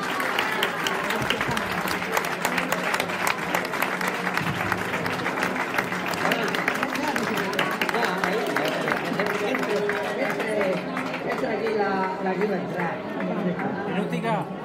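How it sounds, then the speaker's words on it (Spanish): Applause from an audience at a public gathering in Murcia: a dense, steady patter of clapping throughout, mixed with crowd chatter and voices. "pues yo pienso que Juan se merece un gran aplauso por parte de todos nosotros."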